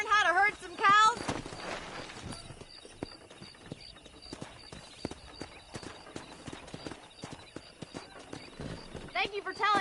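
Horse hooves clip-clop steadily in the Western video game Red Dead Redemption during a cattle-herding ride, with a horse whinnying at the start and end and voices talking over the rhythmic hoofbeats.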